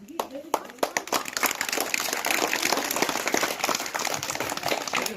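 A crowd at a school gathering in the Thar desert near Bikaner, Rajasthan, breaks into loud, dense clapping. The applause builds after a few scattered claps and stays steady while people talk over it.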